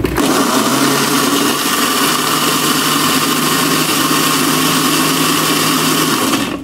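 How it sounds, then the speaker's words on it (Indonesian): A loud, steady blender whirs continuously at close range, its motor droning with a gritty churning texture that holds constant before cutting off abruptly. "Langsung kita blender, cus."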